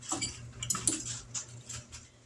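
Utensil scraping and clinking against a pot while chicken spaghetti is stirred, a few soft metallic knocks and scrapes close by over a low hum, no talking.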